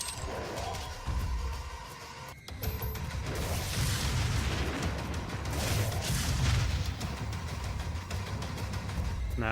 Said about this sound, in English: I probably should try out this upgraded Gauss cannon, because in theory it will do more damage